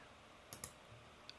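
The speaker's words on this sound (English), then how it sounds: "I can type anything like player Godot" Sparse computer keyboard keystrokes, a few isolated clicks with pauses between them and a louder final burst, quiet and close in an otherwise still room.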